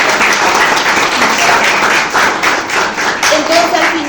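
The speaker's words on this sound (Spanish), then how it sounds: "Un fuerte aplauso para él" An audience gives loud, strong applause in honour of a local artist at an academic gathering, dense clapping held throughout with a brief faint tone near the end.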